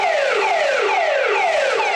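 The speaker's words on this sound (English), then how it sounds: "What's that annoying siren sound?" A loud siren sweeping down in pitch again and again in quick, regular cycles, close and continuous.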